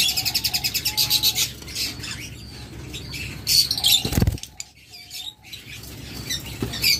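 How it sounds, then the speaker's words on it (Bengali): A breeding pair of colourful pet birds offered for sale chirps and squawks nearby, with rapid repeated calls, bursts of wing flapping and rustling in between. "এত কালারফুল, এত চমৎকার একটা পাখি।"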